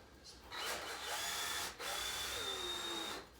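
A power drill whirs in short bursts as it drives screws into a DIY 3D aquarium background piece, two close runs separated by a brief pause.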